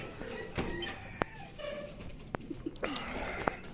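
Racing pigeons coo softly at close range during derby training, with a few sharp clicks and taps scattered between the low calls.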